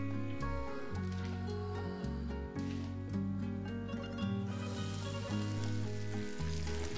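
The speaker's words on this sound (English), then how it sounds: "add about a tablespoon of olive oil. And then place the lamb into the pan." Lamb shanks sear in a hot pan with a tablespoon of olive oil, giving a steady close sizzle and frying crackle alongside strong tonal music that continues throughout.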